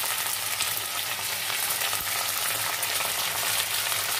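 Spices sizzle and fry in a hot pan as turmeric goes in while a sweet mango chutney is being cooked, a loud, steady crackling hiss close by with soft stirring scrapes and no talking.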